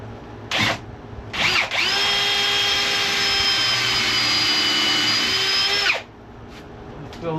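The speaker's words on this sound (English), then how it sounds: "We'll get the drill here, and we'll get this thing drilled out." An electric drill bores out a wood crotch bowl blank, a loud sustained whine that runs steadily for about four seconds after two short bursts, then cuts off.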